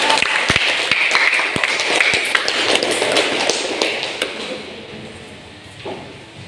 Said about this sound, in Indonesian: tepuk tangan untuk Jody